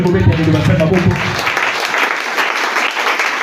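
A church congregation bursts into applause, a loud, dense wash of clapping right after a voice, sustained and close for several seconds.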